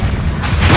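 A short, heavy boom from the Confringo fire spell in Hogwarts Legacy, a deep blast that swells and rumbles over a fraction of a second.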